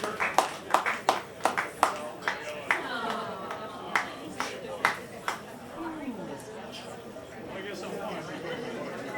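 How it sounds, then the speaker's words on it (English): Scattered hand claps ring out from a small audience at Joe's Café welcoming a band, about a dozen sharp, irregular claps over the first six seconds under someone talking, then fading into chatter. "please keep that round of applause going as we welcome back onto the stage one of the best bands in the land"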